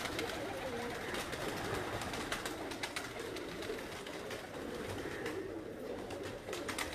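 Pigeons at a pigeon-keeping loft in Kharian coo softly and continuously under a steady bed of outdoor noise, with no talk.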